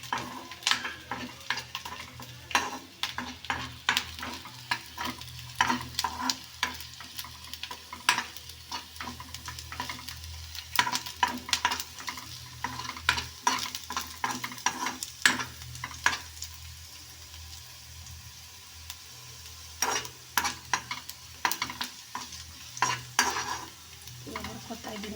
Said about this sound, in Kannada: ಹುರ್ಕೊತಾ ಇದ್ದೀನಿ ಚೆನ್ನಾಗಿ.